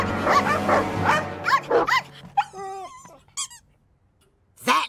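A cartoon dog in an animated Mr Bean episode gives a run of short, loud yaps mixed with high squeaky yelps, bursts separated by brief pauses, with no talking.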